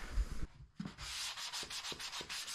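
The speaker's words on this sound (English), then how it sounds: "I just like to finish off with my sanding block." An angled sanding block rubs over drywall, giving close, raspy scraping strokes in a quick back-and-forth rhythm with no talking.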